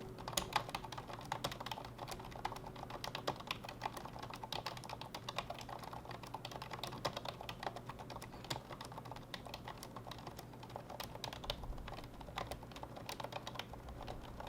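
Steady typing on an MSI Interceptor DS4100 membrane chiclet keyboard, soft rapid keystrokes clattering close and continuous for the whole stretch, with no voices.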